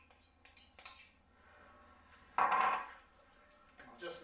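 A utensil scrapes and clinks against a dish while coleslaw sauce is mixed, with several short bursts and one louder scrape midway, close and alone.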